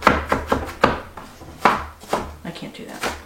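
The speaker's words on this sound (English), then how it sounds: "is dice up this onion a little bit, like half an onion." A knife dices half a small onion on a board, close sharp chops in an irregular rhythm of about eight strikes, with faint background hum and no talk.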